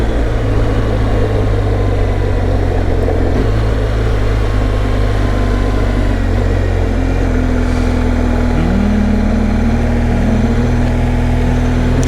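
A BMW R1200GSA motorcycle riding through a forest, its engine a steady loud drone heard from the rider's position with continuous wind and road noise, the pitch shifting slightly as speed changes.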